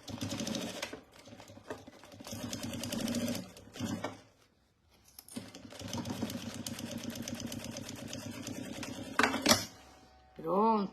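A domestic sewing machine stitching fabric for a bread basket, fast rhythmic mechanical whirring in several bursts with short pauses between runs, close and moderately loud.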